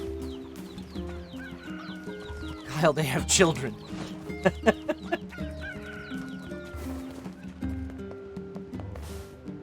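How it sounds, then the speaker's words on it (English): Chickens cluck and squawk in the video game NieR Replicant with several sharp bursts in the middle, heard under and between people talking. "Chickens."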